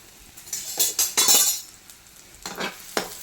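Onions hit a pan and are stirred while goat brain is cooked, with bursts of sizzling and scraping, utensil clinks, and quiet gaps between the strokes.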